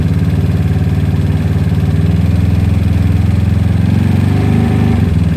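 A GY6 scooter engine with a 30mm PWK carburetor idles steadily and close by during carburetor tuning, its low, even putter rising only slightly as the throttle is nudged, with no talk over it.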